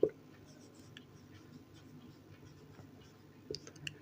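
Faint writing on a board in a Class 10 maths classroom, soft scratchy strokes with a couple of sharper taps near the start and end, quiet and somewhat distant in a roomy space.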